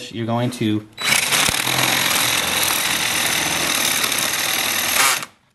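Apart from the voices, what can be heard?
power drill drilling holes through plywood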